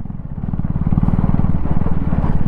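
A 2024 Husqvarna Vitpilen 250 motorcycle engine pulls steadily at low-to-mid revs while riding, a loud, continuous pulsing drone with a fast, regular firing beat close up and no talk.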